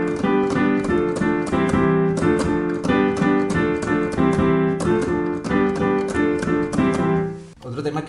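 A piano repeats a syncopated salsa montuno pattern, bright and full, looping steadily for several bars before cutting off abruptly.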